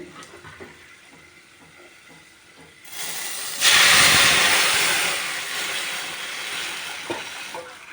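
A tempering of spices with asafoetida for a Ongole-style guggilla rasam hits hot oil with a sudden loud hissing sizzle, rising abruptly and then settling into a steady fry, close and without talk.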